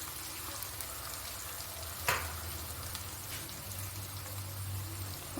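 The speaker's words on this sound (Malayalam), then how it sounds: "ഈ ചെറിയ ഉള്ളി ഇടുവാണ്. ഇതെല്ലാം നമുക്ക് നല്ലപോലെ ഒന്ന് മൂത്ത് കോരിയെടുക്കണം." Small onions, with garlic just added, frying in hot oil for a Kerala sweet ginger curry, giving a steady low sizzle with one sharp clatter midway and no talking.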